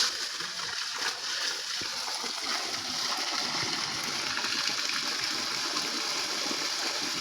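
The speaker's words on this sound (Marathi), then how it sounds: "झाडांना पाणी टाकते" Water splashes and patters steadily onto tree and plant leaves and soil as they are watered, a continuous close pouring sound with faint background voices.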